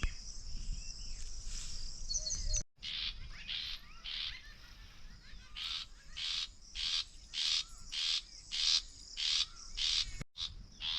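Birds call outdoors on a farm field, a repeated series of bright chirping bursts in a regular rhythm, moderately close, over a quiet background with faint insect buzz.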